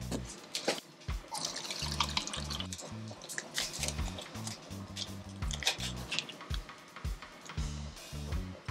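Distilled water pours and splashes into small cups while calibrating pH and EC meters for a hydroponic tower, a continuous watery trickle broken by clinks and drips, with low thumps underneath.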